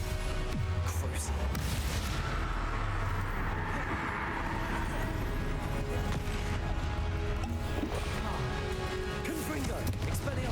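Confringo spell blasts in the video game Hogwarts Legacy sound as a dense, continuous rumble of booms and crashes, with sharper bursts layered over constant game noise.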